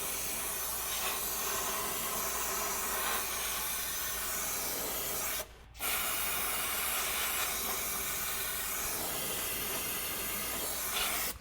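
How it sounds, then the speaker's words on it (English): A pressure washer sprays down the engine bay of a Jaguar XJ to clear an oil leak: a steady, loud, close hiss of water spray that drops out briefly midway, then resumes. "we're gonna start washing this down"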